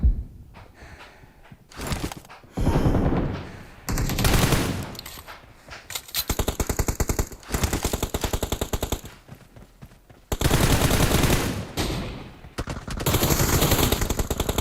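Bursts of automatic rifle fire in the battle royale shooter PUBG, loud close volleys of rapid shots alternating with brief pauses and quieter stretches across the whole span.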